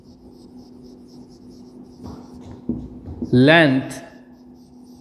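A teacher writes on the board in a sixth-grade maths class, making faint rhythmic scratchy strokes. A voice briefly speaks over them.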